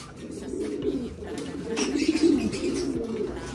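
An escaped pigeon coos in soft, low, rolling phrases close by, the murmuring calls repeating over a few seconds amid faint rustling, without speech.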